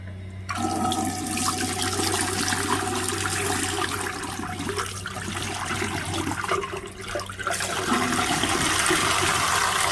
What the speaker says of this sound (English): I'm going to send water through.